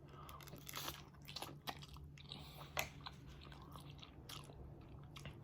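Spicy chicken legs are chewed and bitten during an eating challenge, giving soft close-up crunches, wet squishes and mouth smacks at an irregular pace. The sounds are quiet, and no voices can be heard.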